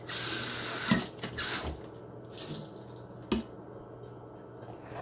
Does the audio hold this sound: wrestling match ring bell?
no